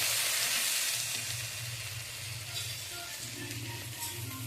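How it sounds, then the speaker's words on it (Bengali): Potatoes fry in a pan, giving a steady, close hiss of sizzling oil with a low background hum throughout and no talking. "দেখো এখানে আলু ভাজা হচ্ছে"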